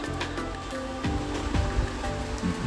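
Water runs properly through a cleared drain on a Porsche Cayenne, a close, steady gurgling trickle with bubbling splashes.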